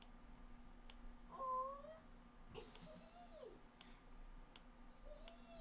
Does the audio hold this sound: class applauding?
no